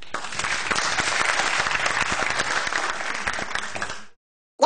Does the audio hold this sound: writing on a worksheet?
no